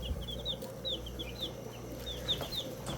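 Young white heritage turkeys pecking at food: repeated soft high chirping peeps come in short clusters over a low steady hum, close by and moderately quiet, with no talking.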